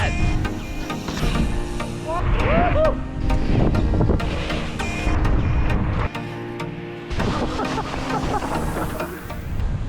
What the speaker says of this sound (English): It's actually pretty windy if you couldn't tell.